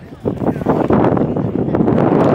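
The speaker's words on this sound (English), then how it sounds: "it got windy out of nowhere" Strong wind buffets the microphone outdoors at Levi's Stadium in loud, rumbling gusts that build and stay heavy, with faint voices underneath.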